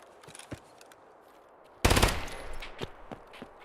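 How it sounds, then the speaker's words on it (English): A single sharp, loud sniper shot cracks out in Escape from Tarkov, with a short decaying echo after it, preceded by faint distant pops. "Where am I getting sniped from?"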